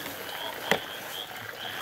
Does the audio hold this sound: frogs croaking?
yes